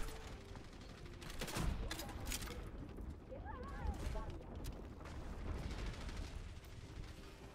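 An enemy turret fires in Overwatch during a match: bursts of rapid gunfire and impacts roll through steady game noise, moderately loud, with a brief warbling effect in the middle and no talk over it.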